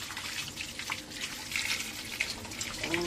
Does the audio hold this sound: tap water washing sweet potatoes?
yes